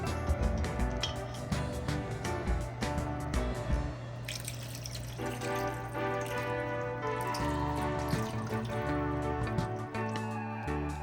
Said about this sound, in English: Now we're just gonna pour this mixture right on top of the pork.